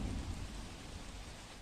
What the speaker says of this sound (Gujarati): આ દ્રશ્યો તમે જોઈ શકો છો અમદાવાદના આશ્રમ રોડના, કે જ્યાં અત્યારે હાલ ધીમી ધારે વરસાદ વરસી રહ્યો છે